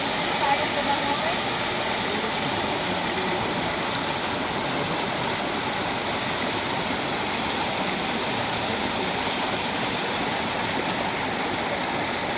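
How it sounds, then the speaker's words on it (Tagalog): A rushing stream on a rocky swimming spot gives a constant, full hiss of flowing water throughout, loud and close, with faint voices buried beneath. "Sarap ng lagas-las ng tubig."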